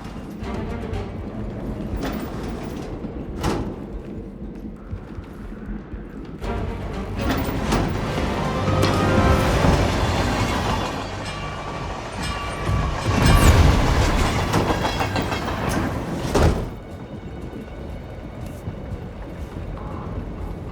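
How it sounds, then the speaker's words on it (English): A train rolls along rails in the video game Hitman 3, a sustained rumbling clatter with rhythmic clickety-clack, swelling louder through the middle with sharp metallic bursts before easing off. "A regular ghost train, huh?"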